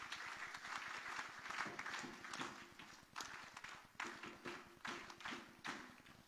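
Devotees clap together at a Dindi procession ceremony for Sant Nivruttinath Maharaj, a dense run of rapid, steady handclaps that swells and eases in bursts, close and fairly loud, with no talk over it.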